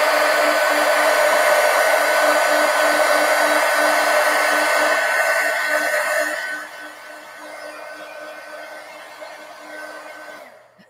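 A hair dryer blows on a watercolor painting, a loud, steady whirring roar with a constant whine that drops in intensity partway through, as if turned down or moved away, then cuts off at the end.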